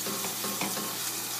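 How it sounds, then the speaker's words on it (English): Pork sizzling hard as it sears in a pan, a dense, unbroken frying hiss that stays loud and close throughout. "I'm going to cook this one side for a little bit so that it gets a nice sear on it"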